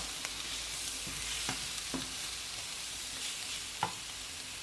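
Cabbage, onion and spaghetti-style pasta sizzle steadily in a pan, a constant hiss with a few soft clinks of stirring.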